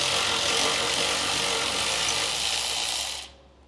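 A ratchet wrench working loose a 10 millimeter ground bolt on a vehicle frame rail during a trailer hitch install, giving a steady, dense, close-up clicking buzz for about three seconds before stopping abruptly.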